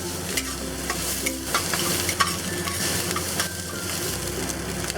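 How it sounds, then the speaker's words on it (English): Barbecue pork stir-frying and caramelizing in a pan, a dense, loud, continuous sizzle with rapid spatula scrapes and taps throughout and a low hum beneath, close up, no voices. "We also want the barbecue pork to caramelize a bit."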